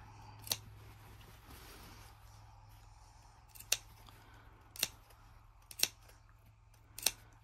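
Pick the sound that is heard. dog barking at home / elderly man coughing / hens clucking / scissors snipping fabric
scissors snipping fabric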